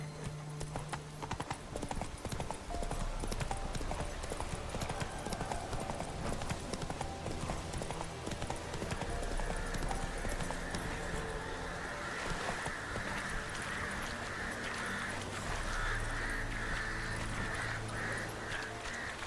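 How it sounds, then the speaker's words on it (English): Horse hooves clip-clop steadily and close by in The Witcher 3 video game, a continuous trotting rhythm over a dense wash of outdoor game ambience. "Come on, Roach."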